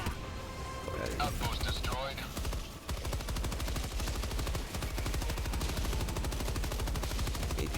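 Rapid automatic gunfire rattles in Helldivers 2, a long loud run of fast evenly spaced shots after a brief burst of mixed effects, with a voice talking over it.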